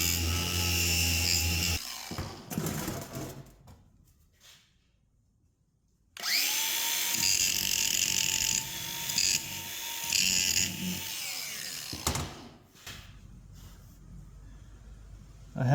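A cutoff tool with a carbide bit cuts on an International Travelette mud truck project, a high whirring grind in close bursts separated by pauses, quiet in the middle before the tool spins up again.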